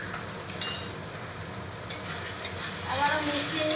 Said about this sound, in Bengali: মশলাটাকে আরেকটু আমি কষিয়ে নেব